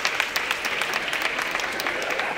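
An audience at a comedy show claps steadily and fairly loudly, a dense, even patter of many hands throughout with no talk over it.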